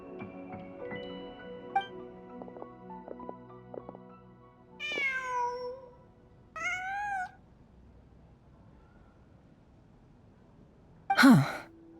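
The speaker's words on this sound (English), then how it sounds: "Just a cat." A cat in Genshin Impact meows twice in the middle, clear and close, then gives a sharp sneeze-like puff near the end, set against soft ambient game music.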